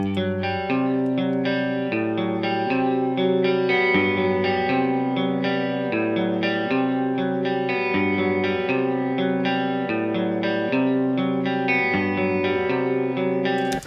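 A clean electric guitar plays a continuous chord progression with sustained, ringing notes and a touch of room ambience around it.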